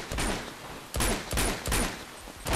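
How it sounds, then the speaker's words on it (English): Repeated bursts of gunfire in the Uncharted 2 shootout, loud bangs arriving in clusters roughly every half second to second over a steady noisy battle background. "Outside. Where there's gunshots going."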